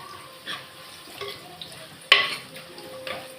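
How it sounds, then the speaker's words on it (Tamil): Onions sautéing in a pan after cinnamon and cloves, soft low sizzle with a few stirring scrapes and one sharp utensil clank near the middle, close but fairly quiet. "வெங்காயம் நல்லா ப்ரௌன் கலரில் வதங்கணும்"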